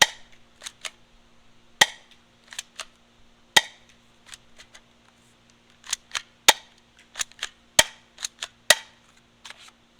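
Hikewintoy gel blaster firing a string of sharp, snappy shots in irregular bursts, some clustered close together and a few louder cracks, close to the microphone with no talking.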